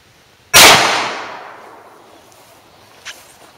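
A single sharp report from a .40 S&W pistol fired in a penetration test cracks out loud and close, then decays into a long echoing tail, with a faint small knock afterward.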